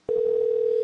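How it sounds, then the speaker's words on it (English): A loud, steady single-pitch tone starts abruptly and holds without a break on a call-in show phone line, sounding like a dial tone rather than a ring. "It just keeps ringing."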